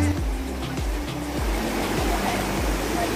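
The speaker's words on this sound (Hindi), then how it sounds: "और वाटरफॉल को फाइनली हमने रीच कर लिया है" A waterfall in the Likhaniya Dari hills near Ahraura, Mirzapur roars as a loud, continuous broadband rush of falling water that stays even throughout, with no voices over it.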